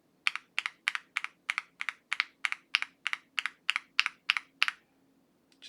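Crisp, regular keystrokes on a Mr Suit mechanical keyboard fitted with lubed and filmed linear switches, about fifteen close, even presses in a steady rhythm with no talking, ending in a brief pause and one last faint click.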